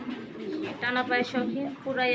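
Pigeons at a fancy-pigeon farm coo softly in repeated short bursts close by. A person talks over them throughout.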